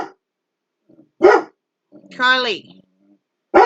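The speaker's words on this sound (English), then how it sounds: "You don't even know what you're barking at, dude." A dog barks in short, loud bursts, three separate barks with pauses between, one stretched into a whining yelp, indoors and close by, with a person speaking briefly.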